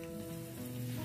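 Mustard seeds, cumin and a red chilli sizzle in leftover deep-frying oil for an Andhra stuffed brinjal curry, with a soft, continuous crackle and no voices.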